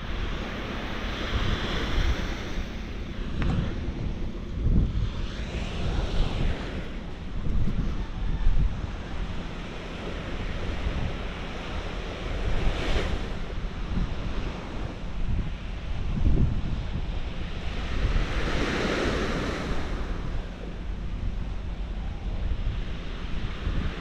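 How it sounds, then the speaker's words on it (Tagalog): Sea surf breaking on a shore in the Botolan area, a continuous roar with repeated swelling waves, heavy wind buffeting the microphone throughout. "Ganda rin ang dagat nila dito"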